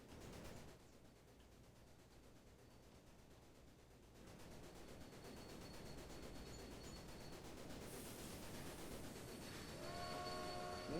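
A train in the video game Railway Empire rumbles and clatters steadily, growing louder as it approaches through a tunnel, with a horn sounding near the end.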